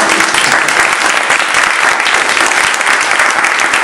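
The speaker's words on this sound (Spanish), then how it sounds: "un aplauso a parte de todos" Audience applause, loud and dense, with many hands clapping steadily throughout and no talk over it.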